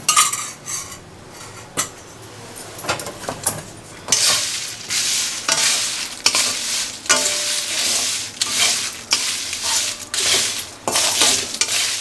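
Spices for vangibath masala powder fry in a little oil in a hot pan, with repeated metal scraping and clinking of a spoon against the pan and a soft sizzle underneath, no voices.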